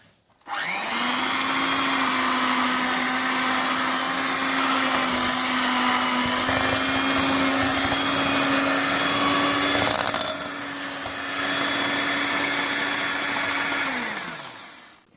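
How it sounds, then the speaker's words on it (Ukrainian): A loud electric mixer beating cake batter with sour cream whirs steadily at one pitch for over ten seconds, dipping briefly once before spinning down at the end. "І знову збиваємо блендером або міксером."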